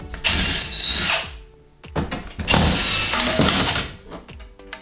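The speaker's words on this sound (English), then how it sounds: "you can drill the holes right through." Power drill boring holes through a TV wall-mount bracket into a wall: two loud, sustained whining drill runs about a second long each, separated by a short pause with clunks and handling noise.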